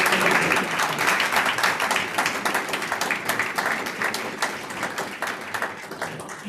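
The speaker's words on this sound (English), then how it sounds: "Big round of applause." Audience applause at a school board meeting: steady, fairly close clapping from a room full of people that holds for over six seconds, tapering slightly toward the end.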